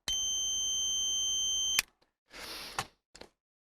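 An ANCEL PB100 automotive 12V/24V circuit probe tester sounds one steady high electronic tone for nearly two seconds. Brief clicks and short handling noises follow close by.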